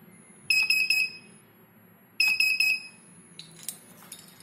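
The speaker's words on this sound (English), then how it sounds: "if somebody come with an invalid key fob or a card, it will start beeping." An RFID door access control system beeps at an invalid key fob: two quick bursts of sharp, loud electronic beeps, each a rapid cluster of tones, followed by fainter clicks and rattles, with no talking.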